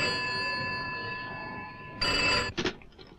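A telephone rings in a 1971 Hindi film scene, a sustained electric bell tone that runs steadily, then cuts off as the handset is lifted, followed by a clatter and faint room noise.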